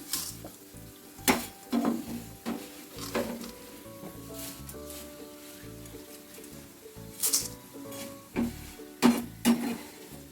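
Fried jackfruit fibre chips are scooped out of hot oil with a metal ladle, giving a steady sizzle broken by several sharp clinks and scrapes against the pan.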